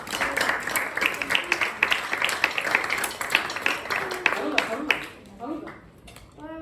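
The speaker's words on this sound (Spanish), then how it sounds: "Un fuerte aplauso." Audience clapping at a percussion audition, a dense round of applause mixed with talking voices that fades after about five seconds into quieter speech.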